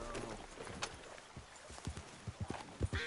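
Horse hooves clip-clop in Red Dead Redemption 2, a run of fairly faint, irregular hoof strikes that grow clearer toward the end, over low game ambience.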